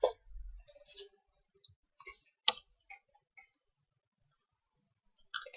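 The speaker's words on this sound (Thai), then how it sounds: "จากนั้นคลิกขวาแล้วก็เลือกฟอนต์ครับ" A computer mouse gives a few sharp, faint clicks, scattered singly and in quick pairs, against near silence.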